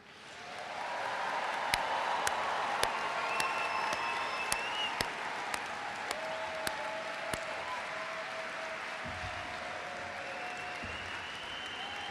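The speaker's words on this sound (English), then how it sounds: "can you please join me in giving a rousing round of applause for all of our graduates?" Graduation ceremony crowd bursting into applause for the graduates, a broad, sustained wash of clapping from a large audience that swells in and holds steady, heard from a distance with a few sharp claps standing out.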